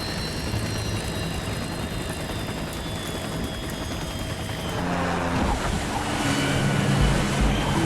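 Loud, steady roar of rotor and engine noise from a helicopter ditching in the sea, mixed with rushing water and surf, growing heavier and more turbulent toward the end.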